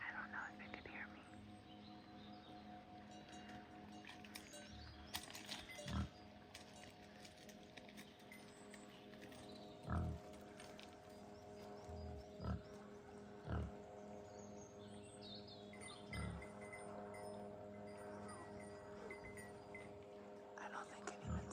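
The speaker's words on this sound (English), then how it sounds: "It's a big pig." A large domestic pig near a wilderness campsite in Corsica grunts and snuffles in several short low bursts at irregular intervals, close by, while a person whispers softly over a steady background hum.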